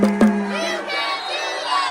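Packed student section in whiteout theme cheering and shouting at a Bears water polo match, a dense crowd roar with a few loud yells rising above it throughout.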